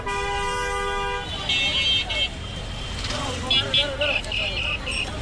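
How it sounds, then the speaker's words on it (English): Dense Dhaka city traffic roars close by while car and vehicle horns toot repeatedly, a long honk at the start followed by several shorter bursts, with people talking over the noise. "Just chaos, dirt, crazy traffic, and this non-stop honking you can't escape anywhere"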